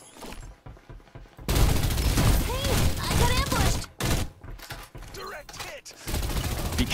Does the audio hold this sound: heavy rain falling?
no